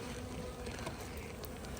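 Honeybees from two colonies buzzing around an opened, split hive during an inspection, a faint, steady hum close by with no talking.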